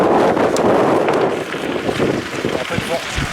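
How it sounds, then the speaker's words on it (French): Gusty wind buffets an outdoor microphone in a steady broadband roar, loud throughout with slight dips, while snow chains for a car are being fitted nearby; no clear speech over the wind. "Un peu de vent."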